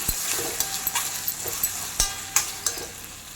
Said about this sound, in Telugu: వేగిన తర్వాత ఆనియన్స్ వేసి తర్వాత టమోటాలు ఉప్పు పచ్చిమిర్చి వేసి బాగా కలపాలి